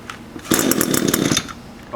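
An Echo 2-stroke weed trimmer engine catches briefly while being started, giving a loud, rough burst of sputtering engine noise for about a second that then fades back toward quiet.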